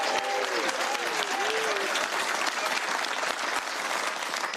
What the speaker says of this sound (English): Give it up for our Zoom crowd.